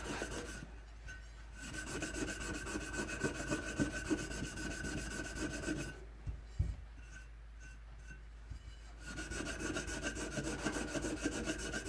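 Steady scrubbing of a dirty bell's metal surface, a continuous rough rasping rub with brief pauses, fairly quiet and close, no talking.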